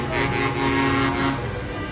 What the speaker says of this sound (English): heard the monorail honking its horn